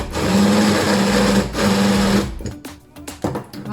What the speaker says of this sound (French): j'ai repris le mixeur, j'ai mis les morceaux de banane dedans et on mixe